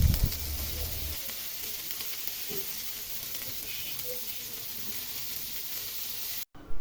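Marinated eggplant slices fry in hot oil, giving a steady, close, even sizzle that runs unbroken, with a few soft thumps of the pan at the start and no talking.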